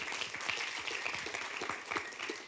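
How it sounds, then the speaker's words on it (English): Audience applause at a city council meeting, a steady patter of clapping from many hands that holds at a moderate level throughout, somewhat distant, with no clear talk over it. "let's give her another round of applause"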